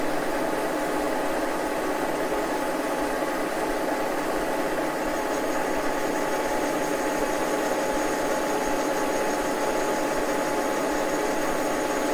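A milling machine fitted with a jig-borer style boring bar cuts metal at a 50-thousandths depth, making a steady, loud, unbroken grinding drone with a faint high whine, continuous and without speech.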